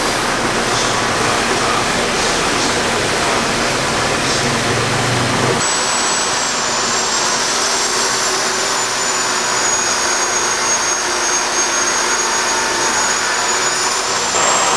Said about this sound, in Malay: Kita akan masukkan coolant baru ke dalam sistem.